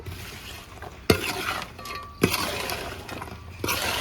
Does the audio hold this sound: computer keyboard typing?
no